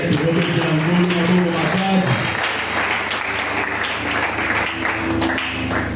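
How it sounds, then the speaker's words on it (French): A church congregation applauds loudly and steadily during an evangelical worship service, with a preacher's voice and singing-like tones over the clapping at the start. "Est-ce qu'on peut applaudir très fort pour le Seigneur?"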